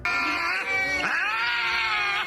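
A cat lets out a long, drawn-out meow that dips and rises again, loud and close, with no other sounds around it.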